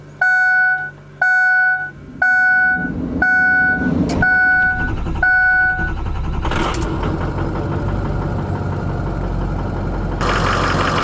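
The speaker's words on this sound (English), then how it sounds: "I think I'll start my truck up, let it warm up for a while here" A pickup truck on a 16-degree snowy morning: six evenly spaced electronic chimes precede the engine cranking and catching, then settling into a steady, rumbling idle to warm up, close by.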